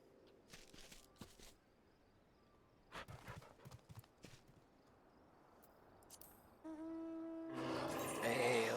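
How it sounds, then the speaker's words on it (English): Hooves clip-clop from a small horse mount walking in Final Fantasy XIV, light scattered steps fairly close, followed by a swelling musical chime and rising effects at the end. "Small horse."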